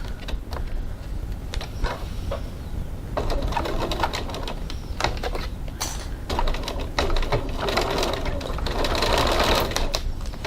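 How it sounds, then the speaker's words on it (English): A sewing machine runs in bursts, its needle clattering rapidly as it stitches a seam along both sides of a zipper panel, with brief pauses between runs. "Stitching 1 centimetre, 3/8 of an inch from the edge, down both sides"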